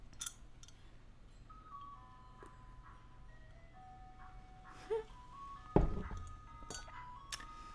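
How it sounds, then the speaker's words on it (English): An ice cream truck plays its tinkling chime tune coming up a street, a thin melodic jingle at moderate distance over quiet background, with a few sharp clicks and a bump partway through. "Is that the ice cream truck coming up my street?"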